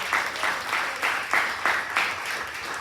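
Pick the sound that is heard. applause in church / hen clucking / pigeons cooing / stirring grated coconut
applause in church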